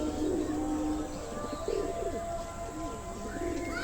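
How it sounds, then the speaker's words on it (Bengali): Young domestic pigeons coo in a soft, repeated pattern of low throaty calls, with occasional chirps over a steady background hum. "আজকে কিছু বাড়ির বাচ্চা পায়রা শখ করাবো"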